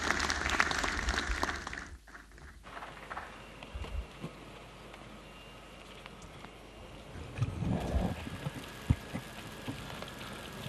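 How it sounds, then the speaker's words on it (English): Applause for a sponsor's representative at an anniversary ceremony in a large hall, a broad, steady crackle of many hands clapping that carries on for several seconds with some murmuring and movement mixed in. "A round of applause as he comes here."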